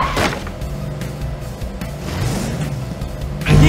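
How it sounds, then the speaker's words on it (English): A monster truck from the Blaze and the Monster Machines video game pops a wheelie, its revving engine roaring steadily with cartoonish game music layered over it, then surging louder at the very end. "Tap on me to see me do a wheelie!"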